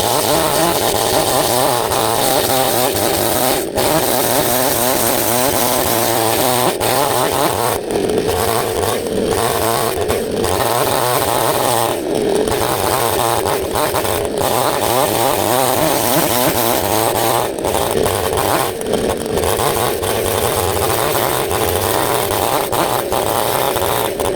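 Chainsaw, a 3800 or 7800 model, ripping lengthwise through wood, running loud and continuous near at hand with a steady high whine and a fluctuating cutting roar.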